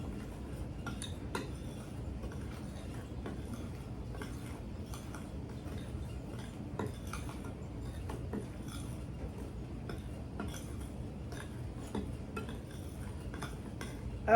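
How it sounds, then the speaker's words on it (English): A spoon stirs cake batter in a bowl, giving a steady stream of soft scraping and light clinks against the side, close and continuous with no talking. "So you're gonna go ahead and stir this up."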